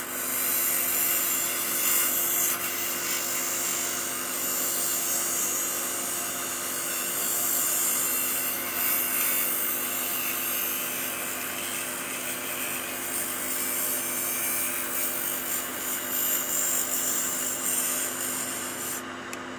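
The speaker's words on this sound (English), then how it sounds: "kindly do the grinding of the burr on this grinder" A bench grinder grinding the burr off a butt-welded joint on a micro butt welder, a steady, bright abrasive rasp that runs continuously throughout at an even level.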